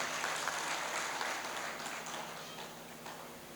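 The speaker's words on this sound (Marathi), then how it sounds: "एकदा जोरदार टाळ्या त्यांच्यासाठी होऊ द्या." Audience applause at a poetry gathering in Shegaon, a broad, steady wash of clapping that fills the whole stretch at moderate level and slowly thins toward the end.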